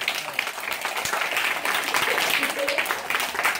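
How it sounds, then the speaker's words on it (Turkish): A first-grade class applauds the winners of a school quiz, a dense, steady burst of small hands clapping close by in a classroom, with voices mixed in. "Kocaman alkışlayın."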